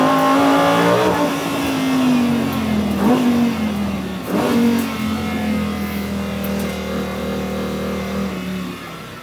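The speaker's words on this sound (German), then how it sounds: "es ist einfach so laut hier, dieser Motor und diese Kulisse hier" Loud, sustained engine roar from an ABT XGT race car, revving hard with pitch rising and falling across the clip, dominating the sound with no speech.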